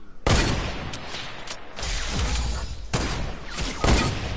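Repeated gunfire in a battle royale video game: sharp shots and bursts crack at irregular intervals over a busy, noisy background, some close and loud, others more distant.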